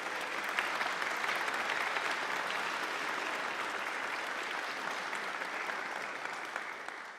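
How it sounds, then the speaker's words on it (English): Audience at a New Horizons band concert applauding: a steady, dense wash of clapping from a large crowd that lasts the whole stretch and fades slightly at the end, with no talk over it. "So just give a round of applause to those people who don't get appreciated enough."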